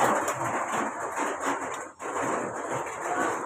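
Heavy rain pours steadily in a loud, continuous hiss, briefly thinning for a moment midway before resuming.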